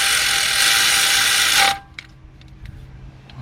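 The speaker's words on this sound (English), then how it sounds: "So if you're using your regular ratchet, just go till it stops and then a little bit more." A hand ratchet clicks rapidly while tightening a bolt into the aluminum oil pan of a 2005 Cadillac CTS with a 3.6 engine, loud and close for under two seconds, then stopping, leaving a quiet room with faint clinks.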